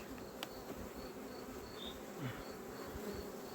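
Steady insect buzzing from many agitated honeybees at a hive fills the clip, a dense continuous hum with no talking, fairly close and even in loudness.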